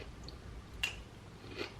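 Crunchy freeze-dried strawberry and cherry fruit snacks being bitten and chewed close to the mic, with two or three sharp crunches over a quiet background.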